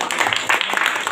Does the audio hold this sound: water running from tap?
no